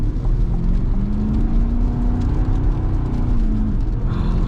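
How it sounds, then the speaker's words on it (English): A 2020 Chevy Corvette's engine drones steadily and loudly through a slide, holding a sustained whirring note with tire and road rumble beneath it. "All right, this should be a good slide."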